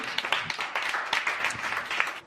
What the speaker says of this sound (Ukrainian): Дайте овації, дайте овації.